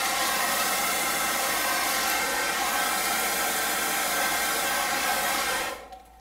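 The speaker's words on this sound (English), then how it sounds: "The thing with the hairdryer is you're able to maintain that," A hairdryer blows heat at close range in a steady, loud broadband hiss with a faint motor whine, then cuts off abruptly just before the end.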